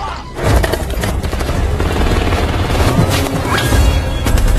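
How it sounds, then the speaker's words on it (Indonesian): Gunfire crackles in a movie shootout involving a marine sniper, with dense, loud bursts of shots and impacts layered over a rumbling, crashing action soundtrack. "aksi tembak-menembak pun terjadi"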